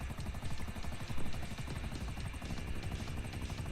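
Helicopter rotors whir in the video game GTA 5, a steady, dense chopping drone with fast pulsing blades that holds at an even level throughout, with no talking.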